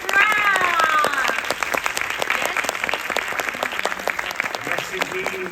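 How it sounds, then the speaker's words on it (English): A room of press at a Eurovision 2023 press conference applauds France, with dense, sustained clapping close by, lasting several seconds at a steady level. "A round of applause to France."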